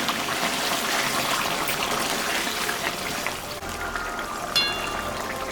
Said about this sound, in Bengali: এখন আমি একটু গরম জল দিয়ে দেব।